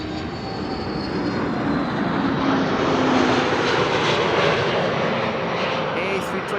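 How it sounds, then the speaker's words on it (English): An Aer Lingus A321neo airliner arriving from Dublin at Amsterdam Schiphol roars steadily overhead, the broad jet noise swelling slightly mid-pass with a voice talking over it. "Next up, Aer Lingus, arriving from Dublin in Ireland,"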